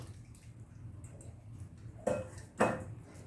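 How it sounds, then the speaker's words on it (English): Two sharp splashy clatters land about half a second apart as potatoes drop into a pot of hot, not-yet-boiling water, over a low steady kitchen hum. "you won't make a splashing mess like I just did"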